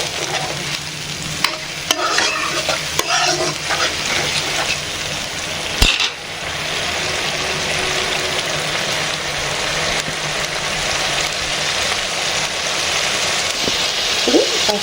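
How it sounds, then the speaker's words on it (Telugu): Masala with a spoonful of garlic paste frying and being stirred in a pan for a tamarind fish curry, a loud continuous sizzle with repeated scraping and knocks of a spoon against the metal. "ఇది మంచిగా బ్రౌన్ కలర్లో వచ్చేంత వరకు వేయించుకోవాలి"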